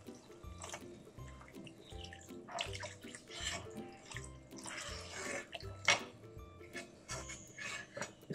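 Water poured into a pan of kofta curry gravy made with bottle gourd and desi ghee, a soft rushing splash in uneven bursts alongside faint clinks of utensils, quiet and close.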